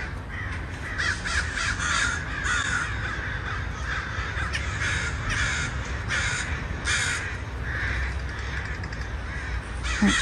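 Many crows caw outdoors, filling the air with a dense flock's overlapping calls, near and far, amid a steady background rumble in a neighborhood setting.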